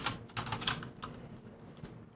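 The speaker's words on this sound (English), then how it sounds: "And now we check by typing ifconfig." Someone types the ifconfig command on a computer keyboard: a short, quiet run of soft key clicks close to the mic, irregular taps over about two seconds with no speech.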